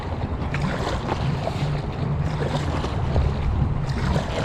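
Boat running a small rapid on the Aare river, a steady rush of churning water and wind buffeting close to the microphone, continuous throughout with no speech.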